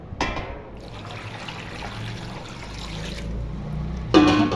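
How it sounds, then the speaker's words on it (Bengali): Water is poured into a pot of washed olives for boiling, a steady trickling stream that runs for a few seconds and ends with a brief louder splash. "এখন পানি ঢেলে দিব।"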